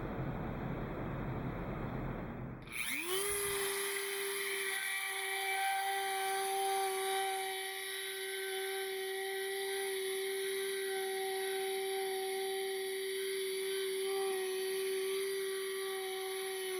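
A small drill bit whines steadily at high speed boring through a plastic model starship nacelle part, preceded by a brief rough grinding before the tone settles into a sustained, close, even drone.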